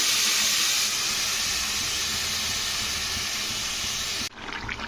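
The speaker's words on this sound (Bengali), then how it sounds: "তো সবজি সেদ্ধ ঢেলে দিয়ে এবারে এর মধ্যে সামান্য আর একটু আমি জল অ্যাড করলাম।" Boiled vegetables and liquid pour into a pan of lightly fried onions, a steady rushing, sizzling hiss that runs unbroken for several seconds and then cuts off sharply, leaving a quieter bubbling.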